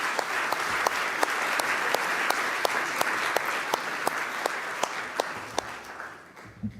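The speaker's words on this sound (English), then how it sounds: "And now you can give yourselves a big round of applause." An audience applauds at the KTP awards ceremony, dense sustained clapping from a large crowd that carries on steadily and then fades away at the end.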